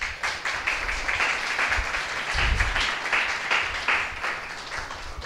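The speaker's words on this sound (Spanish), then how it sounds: "Un aplauso para ellos." Applause from an audience at a university rector campaign visit in Ciudad Neily, steady dense clapping that swells slightly in the middle and carries on for several seconds without talk.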